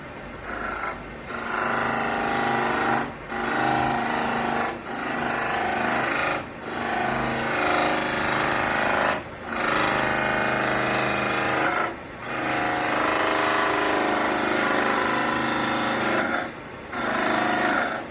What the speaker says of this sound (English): So we'll get out a spindle gouge here.